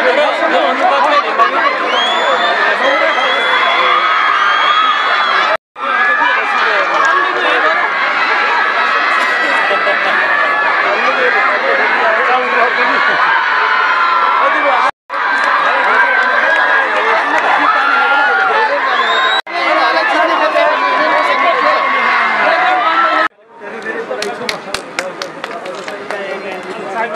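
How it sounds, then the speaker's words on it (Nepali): A large crowd cheers at a presidential running shield race in Malika rural municipality, Nepal, with loud, continuous voices and shouts broken by a few short gaps. "जोरदार तालीले"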